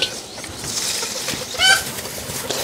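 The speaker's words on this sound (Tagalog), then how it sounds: "Ang daming manok dito" Chickens clucking nearby with flapping and scuffling, one brief louder cackle in the middle, amid outdoor background noise.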